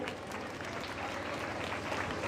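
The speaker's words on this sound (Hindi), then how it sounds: "साथ ही एक बार जोरदार तालियां हमारे गुरुजनों के लिए और अतिथियों के लिए बजा दीजिए।" Audience clapping for teachers and guests at a school award ceremony, a dense, steady wash of applause heard from a distance and fairly faint.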